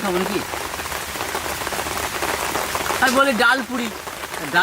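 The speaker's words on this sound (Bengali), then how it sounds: "বৃষ্টি পড়ে টাপুর টুপুর" Constant rain patters hard on a surface, a thick even hiss, with brief voices rising faintly through it near the end.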